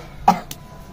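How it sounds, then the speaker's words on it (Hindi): A single sharp cough from a person at a wedding mehndi ceremony, one short loud burst followed by a faint second rasp, with no talk over it. "जब मेरी खांसी आ रही तभी तो करूंगा मैं।"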